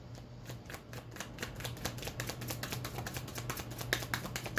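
Tarot cards are shuffled in quick, crisp riffling flicks, close and fairly soft. A low steady hum runs underneath.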